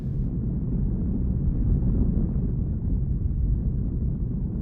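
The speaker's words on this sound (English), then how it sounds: "what it sounds like is basically a very low, eerie rumble" An undersea earthquake recorded underwater and sped up tenfold, a loud, continuous low rumble with a dull, muffled roar and no distinct beats.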